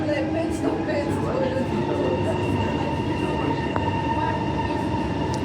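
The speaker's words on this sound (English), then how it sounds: "the first train to use the crossover in the other direction" A train rumbles past at close range crossing a rail crossover near the new Midland Station in Perth, with a steady heavy roar, faint wheel squeal and rail noise running throughout.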